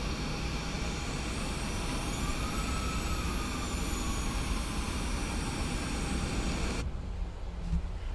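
Engines of a PMDG 737-8 airliner taxiing in a flight simulator give a steady, loud broadband roar with a faint high whine, then drop away abruptly near the end.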